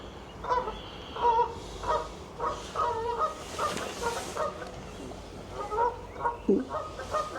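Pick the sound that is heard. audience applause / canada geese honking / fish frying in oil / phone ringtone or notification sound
canada geese honking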